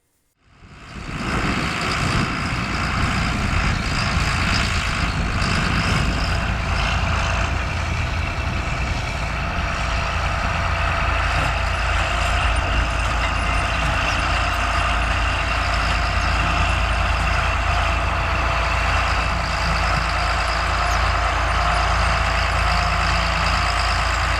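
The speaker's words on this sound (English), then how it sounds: "we see a John Deere 4455 tractor working with a Schulte rock picker" A heavy John Deere 4455 tractor engine drones loudly and steadily with broad rumbling noise, close by, alongside clattering machinery of a Schulte rock picker removing rocks from a field, no voices.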